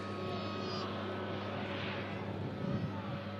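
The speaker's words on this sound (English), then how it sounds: "But in shot is this Turkish A320neo arriving in from Istanbul." A Turkish Airlines A320neo arriving from Istanbul, its broad jet roar heard from a distance with a faint descending whine and steady wind-like rumble, with no speech.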